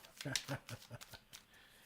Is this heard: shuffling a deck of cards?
yes